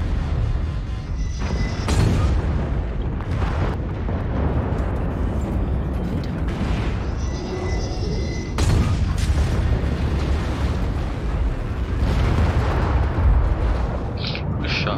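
Artillery strikes in the mech combat game MechWarrior Online: loud, close booming blasts over a continuous heavy low rumble, with three or four sharp bursts spaced several seconds apart, each trailing into crackling debris.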